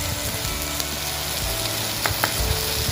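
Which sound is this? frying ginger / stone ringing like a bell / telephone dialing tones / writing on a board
frying ginger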